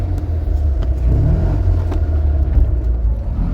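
A 1971 Fiat 500 engine rumbles steadily at close range through a double-clutch gear change, its low drone swelling slightly mid-shift with no talk over it.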